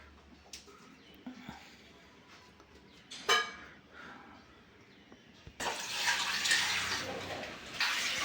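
Tamarind being washed in water in a home kitchen for a clay-pot fish curry, heard as soft splashing and sloshing that grows into a steady rush of running water toward the end, with a brief clatter midway.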